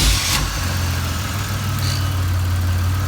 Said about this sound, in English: the car will be starting up right now